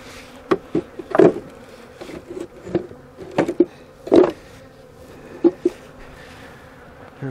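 Honey bees from a tiny swarm buzz around a hive, the hum rising and falling as individual bees pass close in short loud bursts over a quieter background drone.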